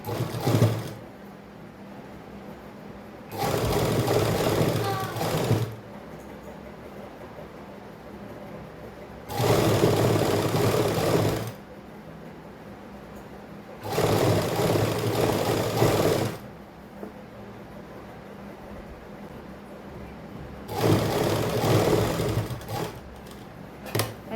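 Sewing machine stitching a seam on a suit, running in four or five separate bursts of a few seconds each, with quiet pauses between the runs.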